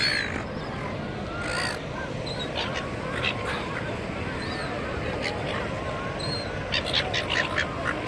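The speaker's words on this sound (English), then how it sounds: "Life of a seagull." Seagulls being fed at Luna Park give repeated short, harsh squawks and cries over a steady outdoor background noise, with some calls near and others farther off, and a voice talking.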